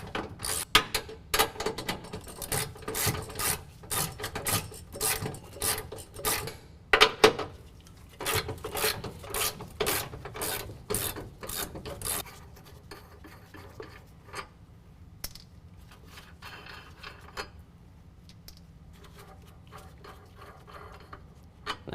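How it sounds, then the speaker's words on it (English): Ratchet clicking in rapid bursts while removing the 21mm rear bumper nuts on a Ford F-150 factory bumper, loud and close for the first half, then fading to quieter intermittent mechanical handling sounds. "we can now remove these three 21mm nuts"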